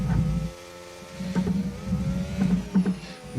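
A Formula 1 car driven in the F1 25 video game at the Mexico circuit, through the stadium section, gives a steady mid-level engine whine with shifting tonal harmonics and brief bursts over a low rumble.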